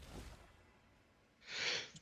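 A single close, sharp sneeze bursts out after a faint breath and a quiet pause, then stops suddenly.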